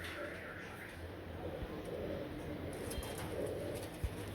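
Royal Teddy fancy pigeons coo in soft, low repeated calls close by, with steady background noise underneath.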